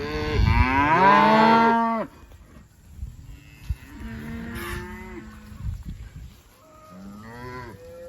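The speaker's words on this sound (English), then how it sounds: "We're going to push these cattle around on that pond dam." Cattle on a pond dam let out a loud, drawn-out moo up close, followed by quieter lowing and rustling, then another shorter moo near the end.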